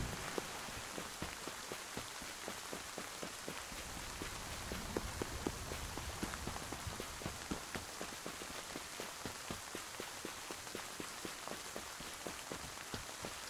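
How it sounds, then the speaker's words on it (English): Rain falls outside in the cozy video game Spirittea, a soft, steady patter of drops with faint irregular ticks, quiet and continuous throughout with no talking. "hear that it's raining outside"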